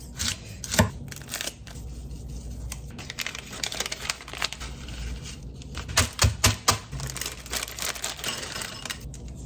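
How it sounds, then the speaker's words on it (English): Knife chopping a large amount of lettuce for a salad, producing rapid crisp crunching and snipping cuts in uneven bursts, close and clear, with no talking. "I'm just gonna cut up all the lettuce."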